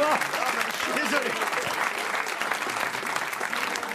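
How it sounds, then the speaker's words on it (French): Studio audience on a French radio quiz show applauds steadily, a dense, even wash of clapping lasting the whole four seconds, with some voices mixed in at the start. "On applaudit Christophe Beaugrand."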